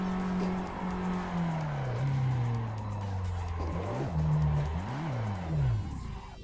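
Chevrolet Omega drift car fitted with an F1 engine in a video game, its engine whining and shifting pitch while the tires squeal through slides, loud and close for several seconds.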